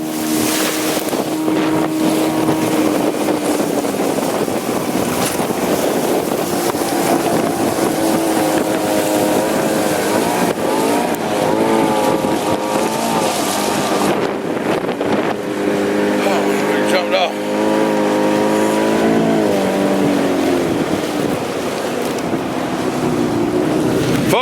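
A small fishing boat's outboard motor drones loudly and steadily, wind buffeting the microphone and water rushing alongside, until the engine note wavers and sputters as it starts running poorly toward the end; voices are faintly mixed in.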